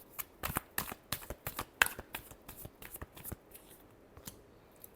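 Tarot cards are shuffled by hand in a quick burst of crisp riffling slaps, close and dense at first, then tapering into a few softer taps.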